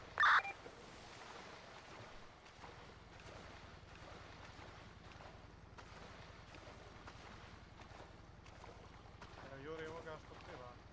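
A character swims through water in a tunnel in a GTA roleplay game, with faint, continuous soft splashing and watery movement, a brief beep at the start and some talking near the end.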